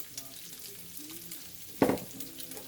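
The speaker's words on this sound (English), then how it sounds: "we are going to throw in our shiitake mushrooms" Shiitake mushrooms hit a hot pan with onions, pork and their juices, making a steady close sizzle, then a sharp loud crackling burst as they land, with no talk.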